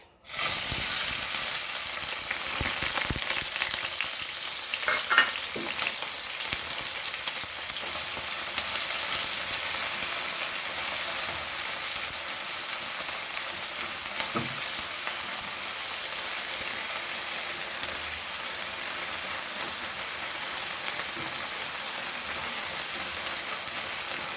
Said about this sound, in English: Okay, so let's fry this all.